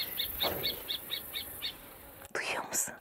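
A bird calls in a series of short, evenly spaced chirps near an aronia orchard in Ankara, faint and outdoors, followed by a louder sweeping call at the end.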